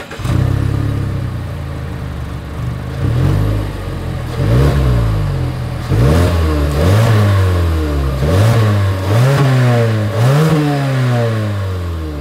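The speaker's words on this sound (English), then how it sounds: "As always, here is that exhaust clip." A 2024 Mazda CX-30 with dual exhaust revs repeatedly from idle, about seven loud rising-and-falling engine blips in steady rhythm, close up with no talking.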